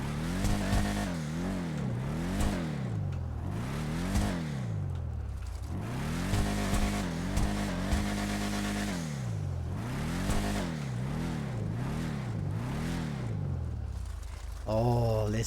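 Declasse Tulip muscle car engine in GTA Online revving hard and repeatedly, loud rising and falling sweeps with tire squeal hints, continuous throughout.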